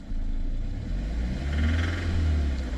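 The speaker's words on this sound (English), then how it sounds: "Oh, that's a rod knock." An abandoned track car's engine, suffering a rod knock, drives on the road after sitting for months: a steady, loud low rumble with a slight rise in revs midway, no voices.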